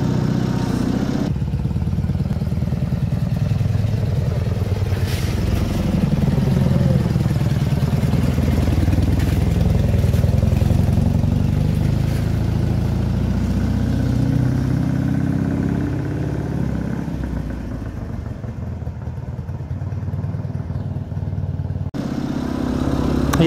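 A Dnepr motorcycle, a Soviet-era boxer-twin machine, idles steadily and close by with a deep, continuous low throb and light mechanical clatter, running alone without talk for the whole stretch.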